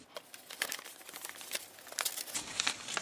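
Crinkling and crumpling of a DIY foldable boat being folded fully into a box shape, a dense run of close crackling rustles and sharp creases with no talk.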